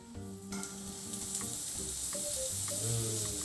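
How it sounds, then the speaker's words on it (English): Lion's mane mushrooms sizzle in a hot frying pan, a loud, steady crackling hiss that builds and carries on without any talk. "Let's chuck them in the frying pan."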